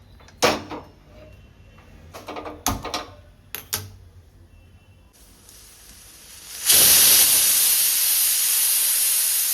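Radish dal cooks in a pressure cooker. After a few sharp knocks and clatters, a loud steady steam hiss builds, then surges into a strong, continuous close whistle-hiss that lasts to the end, with no talking.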